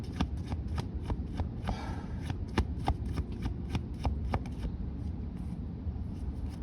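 A deck of oracle cards being shuffled up close, heard as a series of crisp riffling flicks and soft slaps in an irregular rhythm over a low room hum, with no talking.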